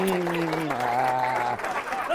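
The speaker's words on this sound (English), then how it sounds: "Give Sarah a big round of applause, ladies and gentlemen." Audience applause for a contestant, brief steady clapping while a voice speaks over it the whole time.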